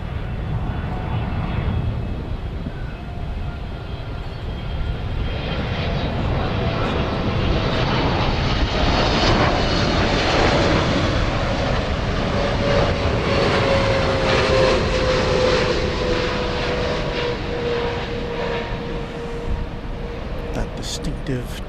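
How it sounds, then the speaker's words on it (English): An American Airlines Boeing 777 passes at night at a busy airport, its jet engines a loud, broad roar that swells and holds with a rising whine, while voices talk over it. "Distinctive 777 sound."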